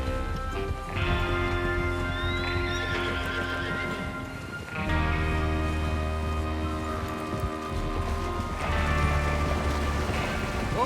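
Horses in Red Dead Redemption 2 gallop with steady clip-clop hoofbeats under a droning musical score, broken by several loud whinnies and neighs at close range.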